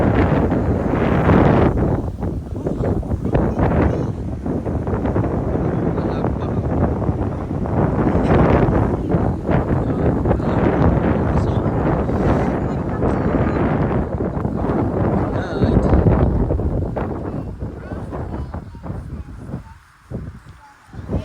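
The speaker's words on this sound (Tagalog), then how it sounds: "Kasi, ang lakas ng hangin." Strong night wind in Zambales, Philippines buffets the microphone in loud, continuous roaring gusts, easing briefly near the end.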